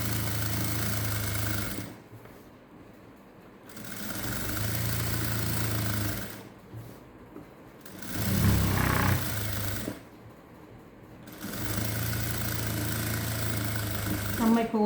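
A sewing machine stitches elastic onto a peplum top in several fast, buzzing runs of a few seconds each, with short pauses between bursts and someone talking over parts of it.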